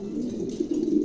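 A pair of Maltese pigeons coos in a low, rolling murmur that keeps going close by, growing slightly fuller toward the end.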